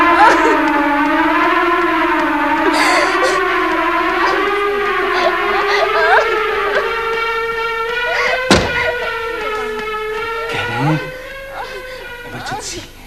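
An ambulance emergency siren wails loud and close, its pitch sweeping up and down continuously, with a sharp thud partway through and some background commotion beneath.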